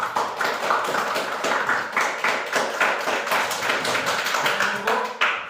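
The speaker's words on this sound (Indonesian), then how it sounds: "Berikan aplaus dulu untuk semua kelompok." A classroom of students claps for the working groups, a steady round of close, dense applause that keeps going to the end.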